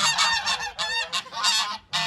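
Several geese honk loudly and close by in quick, overlapping bursts, a harsh nasal chorus with brief gaps between calls.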